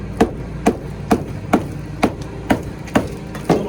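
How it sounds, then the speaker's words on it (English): Old lime mortar on a chimney in an old tavern being broken up with a hand tool, eight sharp, evenly spaced chopping blows close by, roughly two per second, over a steady low engine hum from a mower outside. "Doesn't take a lot to break this old lime mortar up."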